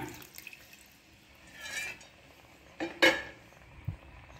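Tamarind water is poured into a pot while cooking a curry leaves and bitter gourd gravy, a short faint splash followed by a sharper clink of a vessel against the pot.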